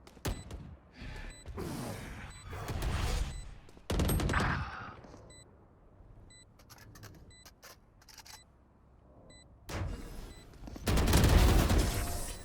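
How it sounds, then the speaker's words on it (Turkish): Bursts of video game gunfire fired into the air in Valorant-style tactical shooter play, loud rapid volleys at the start and end separated by quieter mechanical clicks and movement, with no talking. "Ben buradan havaya sıkıyorum dikkat dağıtıyorum"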